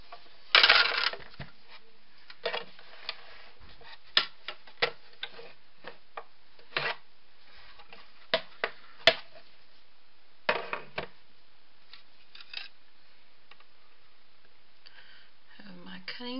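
A Big Shot die-cutting machine handled on a craft table for a sympathy card, with sharp knocks, clacks and ticks of plastic plates and parts, scattered and close.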